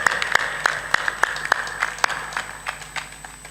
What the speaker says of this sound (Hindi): तालियां बजती तो हैं